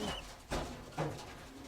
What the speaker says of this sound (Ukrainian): Це голубеня паруса.